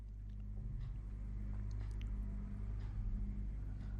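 Low, steady rumble of road traffic in the distance at Bromley Common, London, a continuous drone with no single vehicle standing out.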